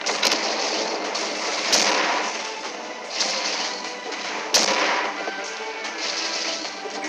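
Repeated booming train explosions in a Godzilla video game, several sharp blasts a second or two apart over a constant noisy rumble.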